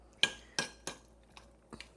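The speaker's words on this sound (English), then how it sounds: "just to be able to give this like a really, really, really good mix here" A utensil clinks against a bowl while ingredients are mixed for holiday recipes, giving five or six sharp metallic taps at uneven intervals, close and fairly quiet, with no talking.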